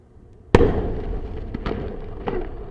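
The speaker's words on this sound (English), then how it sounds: "you see a huge explosion, and at the exact same time, you hear the sound" The New Glenn rocket explosion: a sharp, loud blast cracks suddenly, followed by a few smaller pops and crackles that echo and fade.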